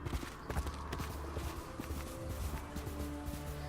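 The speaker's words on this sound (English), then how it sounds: "So, a horse." Horse hooves clip-clopping at a steady pace across grassland in the video game Ghost of Tsushima, a continuous rhythmic patter with game ambience underneath.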